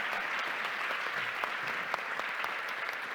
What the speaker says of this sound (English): And I think I'll ask for a round of applause for what Bilal is doing for his community.